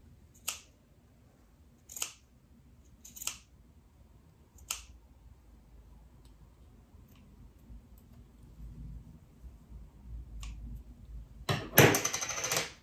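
Scissors snipping open a fabric buttonhole on a sewn jacket: several sharp, quiet, spaced-out snips, a long pause, then a brief burst of close rustling and cutting near the end.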